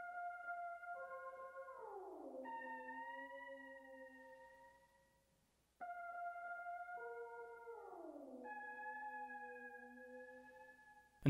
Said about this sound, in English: the next thing I added was this pluck sound that sounds like this